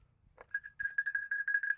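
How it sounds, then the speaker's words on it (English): A bell near Lake Geneva in Switzerland signals departure to Geneva, ringing in a rapid, continuous trill of bright metallic strikes that grows slightly louder as it goes on. "Time to go to Geneva is what that bell means."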